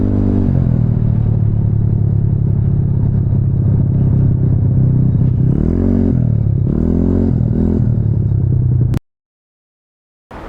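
A Honda Ruckus scooter fitted with a GY6 engine idles loudly and steadily up close, with a couple of short revs near the end before it cuts out abruptly into silence.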